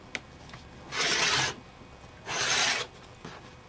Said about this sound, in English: I'm going to put glasses on and use this rotary cutter.